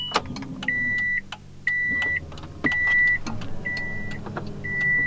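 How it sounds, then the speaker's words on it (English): A Subaru WRX with a fully built engine sits still while its fuel pump primes, giving a steady electric whir with a repeating high beep from the car, several short even pulses one after another, close by with no talk. "Fuel pump priming."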